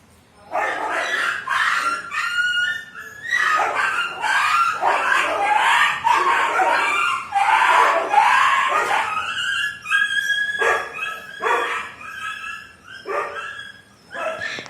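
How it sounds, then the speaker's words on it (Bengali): Three dogs fight close by, with a frantic mix of barks, yelps, snarls and high whining cries in rapid bursts that overlap almost continuously, loud and chaotic. "এখানে বন্ধুরা কুকুরগুলো এত মারামারি করছে, 3খানা কুকুর মিলে এত মারামারি করছে, এত সাউন্ড"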